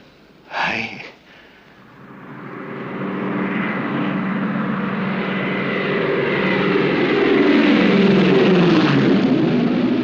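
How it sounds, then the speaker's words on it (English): Trans-Australian Airways propeller airliner arriving from Darwin, its engines droning steadily and growing louder over several seconds after a brief sharp noise at the start. "Announcing the arrival of Trans-Australian Airways Flight 571 from Darwin."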